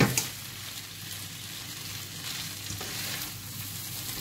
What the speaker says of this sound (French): quand vous faites quelque chose au wok, vous ne couvrez pas. Vous faites revenir.